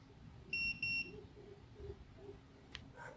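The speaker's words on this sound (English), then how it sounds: "The unit beeped, said we're good to go." A Garmin LiveScope marine sonar unit gives two short, clear electronic beeps in quick succession after connecting, over a quiet room background with no speech.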